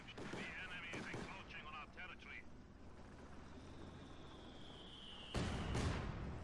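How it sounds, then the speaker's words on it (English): A mortar pit fires in Company of Heroes 2 amid distant battlefield booms and gunfire, with a sharp loud blast near the end and a voice talking over it. "probably is the sound of a mortar pit"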